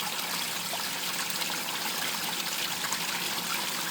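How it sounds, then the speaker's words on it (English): A small garden waterfall splashing over rocks, a steady close hiss of falling and trickling water without pause. "You get a little splash right through here, which is okay."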